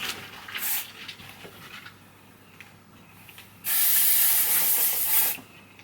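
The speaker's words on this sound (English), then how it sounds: "All I have to do is like fling it up, give it a spray, and it will stay." Heavy duty hairspray sprayed from a can in one long, loud, close hiss lasting over a second, preceded by quieter handling clicks and rustles.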